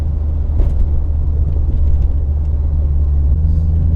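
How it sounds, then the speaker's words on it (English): A turbocharged Fiat Uno Turbo engine drones steadily at close range, a loud low rumble with a whirring undertone that holds for several seconds. "you love the noise of the Uno Turbo"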